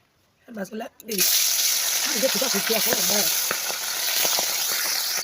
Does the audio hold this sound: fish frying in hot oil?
yes